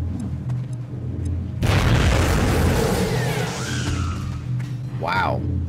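Grenade blast in an XCOM tactical battle against sectoids, a single sudden booming explosion that bursts in loud and then fades into a long crackling, debris-filled tail, with a brief whooshing tone near the end.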